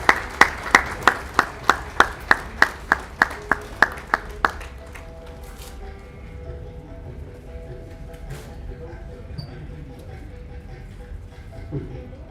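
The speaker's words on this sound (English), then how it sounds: "can we get a nice applause" Clapping at a book launch in Hyderabad: about a dozen sharp, evenly spaced handclaps ring out close by for several seconds, then stop, leaving a quiet room with faint shuffling.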